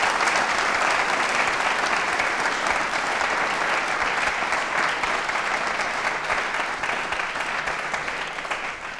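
Loud, sustained clapping from a quiz show audience at an institute's election-themed event, a dense, even roar of many hands that holds steady and eases off slightly near the end.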